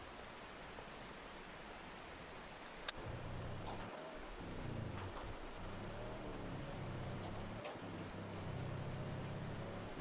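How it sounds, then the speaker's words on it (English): Heavy rain pours steadily during a storm chase, a dense unbroken hiss drumming on a vehicle with a low engine hum underneath and a few sharp taps against the body. "This rain needs to let up"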